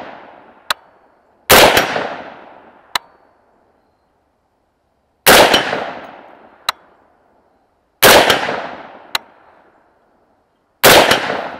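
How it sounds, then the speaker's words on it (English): .350 Legend rifle shots from a Bear Creek Arsenal upper crack loudly nearby, four of them spaced a few seconds apart, each followed by a faint, sharp clang from a distant steel target. "See if we can put some on that steel over there."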